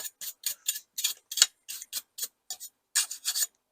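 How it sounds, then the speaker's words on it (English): A stiff brush scrubs dirt off a HoMi garden hand tool in quick rasping strokes, a dozen or so close, crisp scratches in an uneven rhythm with silent gaps between. "See if you can get the hard bits off using the back of the brush."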